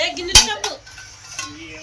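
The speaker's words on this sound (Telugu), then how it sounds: "మా అమ్మ చూడండి గిన్నెలు కడుగుతుంది." Dishes and pots being washed by hand in a home kitchen, with a few sharp clinks and clatters of metal utensils, one loud knock near the start and softer clanks after.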